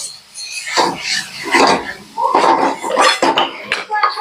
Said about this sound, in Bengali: আলুগুলো দিয়ে মশলাটা কিছুক্ষণ কষিয়ে নেব